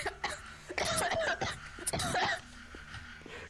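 A person coughs in a few sharp bursts during a playful beatbox-style moment, the coughs close and loud with short pauses between them and no clear talk.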